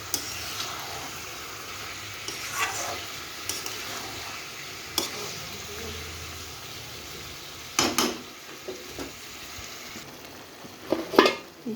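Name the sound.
koi fish curry sizzling while being stir-fried in pot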